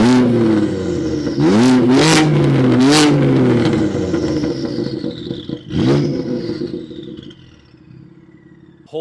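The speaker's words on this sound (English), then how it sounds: "it's an absolute animal, and it now sounds brilliant with the Remus exhausts" A BMW F80 M3 engine with a full Remus exhaust revs hard several times close by, loud rising and falling blips with crackles, then settles into a lower idle burble.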